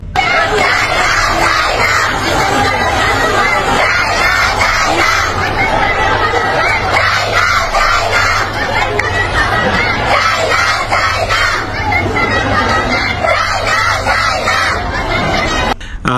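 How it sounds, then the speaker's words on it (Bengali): A large protest crowd chants and yells slogans together, a dense, loud, continuous roar of many voices with rhythmic shouting that never lets up. "তারপরে দেখুন স্লোগান দিচ্ছে"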